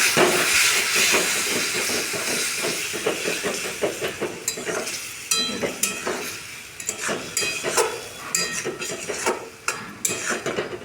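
Potatoes frying in a hot pan for a vegetarian potato dish, with a splash of water added, giving a loud, steady steaming hiss and sizzle, broken by scraping and stirring clatter throughout, with no talk.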